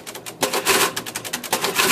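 Refurbished Remington 103A electric adding machine, cleaned, lubricated and fitted with a fresh ribbon, running with a rapid clattering mechanical rhythm of repeated strikes, close and fairly loud, no voices.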